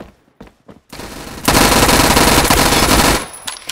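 Rapid automatic gunfire in Roblox Phantom Forces, a few scattered shots and clicks, then a loud, sustained burst of about two seconds before it cuts off.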